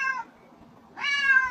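A cat meows twice, close and loud: a short cry, a pause of near silence, then a longer drawn-out meow that ends in a sharp click.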